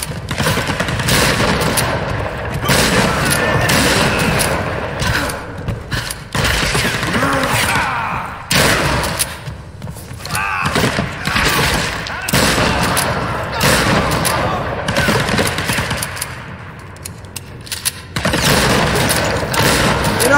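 Gunfire in the 2013 Tomb Raider video game, dense bursts of loud, close shots and rattling fire running nearly continuously with brief lulls, mixed with other game effects and some voices.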